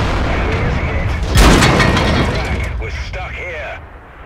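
A sharp, booming FV215b tank cannon shot from a video game bursts out, followed by a fading rumble and faint electronic whine.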